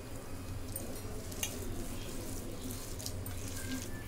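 Water trickles into a bowl of onion bhaji batter with a faint, continuous running-water hiss and a few small splashes, quiet and close, with no talking.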